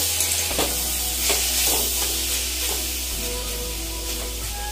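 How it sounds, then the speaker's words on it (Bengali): Spinach with potato, eggplant and lentil dumplings fries in a pan after its water has cooked off, giving a steady close sizzle with soft stirring scrapes throughout. "এবার আবার আস্তে আস্তে শাকটাকে ভাজা শুরু করব।"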